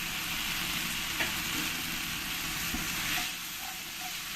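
Spices with coriander and cumin powder sauté in a pan for palak paneer as a steady broadband sizzle with a few soft scraping strokes, close and even throughout, easing slightly toward the end.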